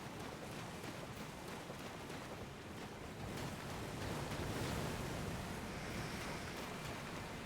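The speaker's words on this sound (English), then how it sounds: "So we actually want to go over this waterfall." Rushing waterfall in the Elden Ring video game, a steady broadband roar of falling water that swells slightly midway, continuous and fairly loud with no talking.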